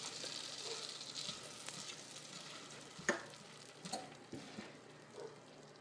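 Butter melting in a pan over low heat makes a soft, faint sizzle and gentle crackle, with a few small pops and light stirring taps scattered through it.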